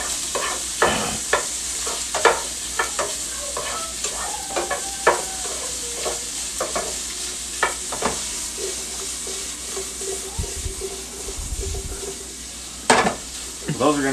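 Homemade sausage frying in a pan, a continuous close sizzle punctuated by repeated clinks and scrapes of utensils against the pan.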